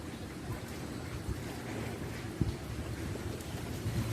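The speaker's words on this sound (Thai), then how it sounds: "ช่วงนี้ฝนตกนะครับ" Rain falls during heavy flooding in Chum Phae district, a dense, steady outdoor wash with wind buffeting the microphone and a few dull knocks.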